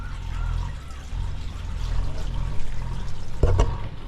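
Mountain spring water trickles and flows between rocks in a steady low stream, with a short louder splash near the end.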